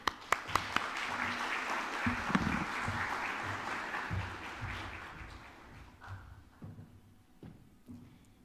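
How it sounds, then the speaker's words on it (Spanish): An audience at a university ceremony breaks into applause. Steady, moderately quiet clapping swells and holds for several seconds, then thins out into a few scattered claps and thumps. "Un aplauso a todos ustedes por ese compromiso."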